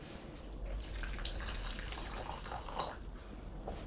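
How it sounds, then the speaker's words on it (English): Boiling water poured over diced onion, a continuous close splashing and trickling pour with small drips, fairly steady throughout. "pour boiling water over them"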